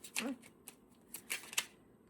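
Mini tarot card deck being shuffled by hand, a few quick papery riffles and soft flicks in short bursts, fairly faint and close.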